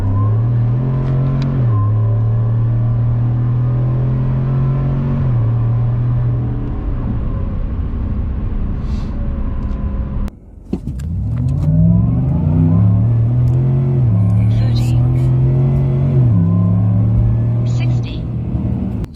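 A 2021 Chevrolet Silverado with a 5.3L V8 and an Edelbrock supercharger on a test drive. Its engine is loud and close, droning steadily and rising through gears, then lifting off briefly and revving again, with talk over the cabin noise.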